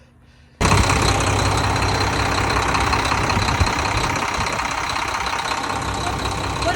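A pump engine kicks on abruptly after a quiet moment, then runs loudly and steadily with a rough, knocking idle that holds to the end.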